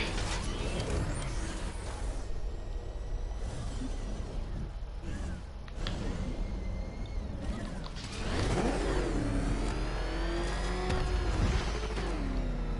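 The Batmobile's engine in Batman: Arkham Knight rumbles steadily, then revs with rising and falling whines as the car accelerates and maneuvers, heard up close and fairly loud.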